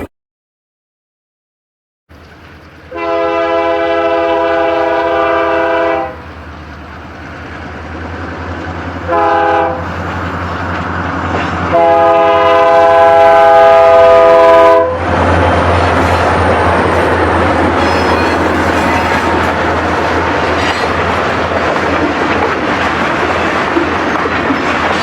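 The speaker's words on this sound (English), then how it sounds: "There's a train coming." A Goderich Exeter Railway train approaching at Clinton Junction in Ontario, with a loud, sustained multi-tone horn blowing in long repeated blasts, then a roaring rumble and clatter of cars rolling close by.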